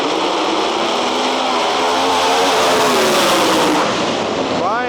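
Pro Mod drag cars making a pass at an outlaw drag race in Canada give a loud, continuous engine roar that swells and stays dense throughout, close and overwhelming.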